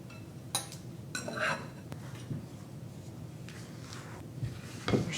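Flour being gently stirred into gluten-free brownie batter, with soft scraping and occasional clinks of a utensil against the bowl, quiet and close, in short irregular strokes.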